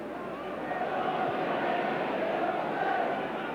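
Capacity football crowd at Dens Park in Dundee during a 1982-83 Dundee v Dundee United match, a steady roar and murmur of a large stadium audience throughout, with a commentator speaking over it.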